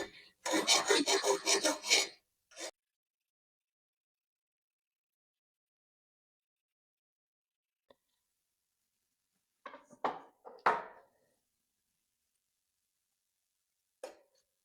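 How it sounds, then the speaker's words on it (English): Short rasping bursts of sanding on a stuck part of a 1994 Shogun Trailbreaker steel mountain bike, one long scrubbing burst at the start, then a few brief scrapes after a quiet pause, close and fairly loud. "I need to sand it down a bit."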